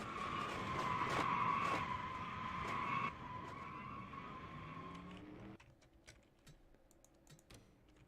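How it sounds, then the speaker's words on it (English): Race cars in a NAPA Autoparts Pro Series stock car race at Daytona in a racing video game skid in a big wreck. A long, loud tire screech holds for about five seconds, then cuts away to quieter, scattered clatter. "The first wreck of the NAPA Autoparts Pro Series history, but also the season, is a very large one."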